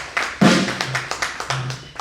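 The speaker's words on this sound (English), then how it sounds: "they do deserve a round of applause around the house today" Audience at an investiture and induction ceremony gives a round of applause, a dense patter of claps at moderate distance, with a brief voice or murmur mixed in near the start.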